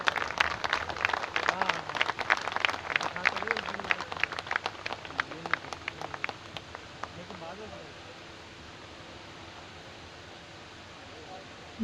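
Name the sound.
audience applause at ceremony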